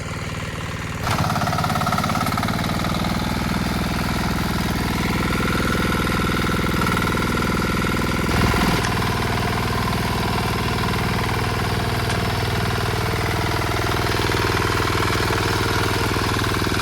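A small tractor engine runs steadily in a muddy Konkan rice field, a continuous close chugging drone with a brief revving surge midway, no voices.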